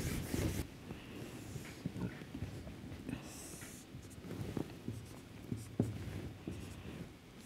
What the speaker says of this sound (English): we will draw the temperature entropy diagram of actual cycle